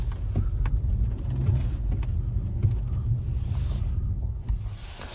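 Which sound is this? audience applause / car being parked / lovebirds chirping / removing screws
car being parked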